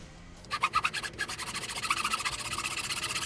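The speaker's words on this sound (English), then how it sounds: "Nope, hand saw. We're going by hand." A hand saw cutting walnut for a Gibson SG style guitar neck, with rapid rhythmic back-and-forth rasping strokes close by, starting after a brief quiet moment and continuing steadily.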